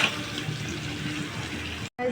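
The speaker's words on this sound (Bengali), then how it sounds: "জল অ্যাড করে দেবো" Water pours steadily into a curry pan of fried taro and spices, a continuous close splashing flow that cuts off abruptly near the end.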